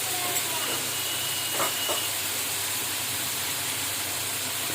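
Garlic ginger paste sizzles in a hot pot for a degi-style chicken qorma, a steady, even hiss that runs unbroken from start to finish with only a couple of faint clinks.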